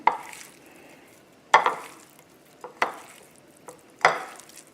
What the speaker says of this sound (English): I already have the onions and the garlic in the skillet.